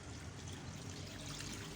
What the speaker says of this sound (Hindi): अब इसमें मैंने ये 1 लीटर पानी डाल देना है।